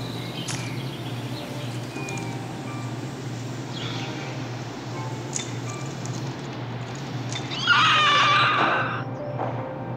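A brief, bright horse whinny in a video game rises over a steady low hum and background game ambience, lasting a couple of seconds near the end.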